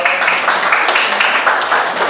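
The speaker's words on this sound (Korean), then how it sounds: "우리 박수 한번 보내줍시다." Church youth congregation applauding together, a steady dense wash of many hands clapping close and loud, with no voices standing out.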